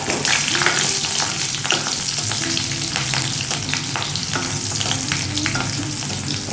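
Whole dried red chillies, a pinch of fenugreek seeds and two slit green chillies sizzling in hot oil for fish curry, a loud steady crackle broken by sharp spattering pops and some stirring.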